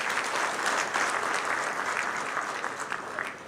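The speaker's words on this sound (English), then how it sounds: "can you clap for Equity Bank?" Audience at an investment conference applauding a sponsor, a dense, even burst of many hands clapping from a moderately distant crowd, sustained without voices.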